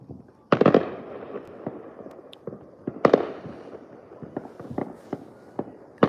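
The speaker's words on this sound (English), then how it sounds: "I can see plenty of fireworks" New Year's Eve fireworks over hill country, heard from a balcony on a clear night: two sharp booms stand out among scattered pops and crackles, some near and some distant.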